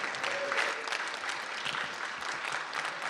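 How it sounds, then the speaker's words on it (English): Audience applause at a 1 Million Cups startup pitch event in Kansas City: steady, dense clapping from a room full of people, filling about three seconds at even loudness with no voices standing out. "Let's give them a round of applause."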